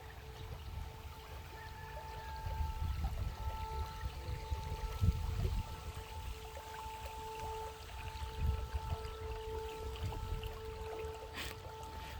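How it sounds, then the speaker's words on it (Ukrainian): Water flows and trickles steadily at a moderate distance, a soft continuous wash with faint tonal hums in the background. "Звук води він завжди заспокоює"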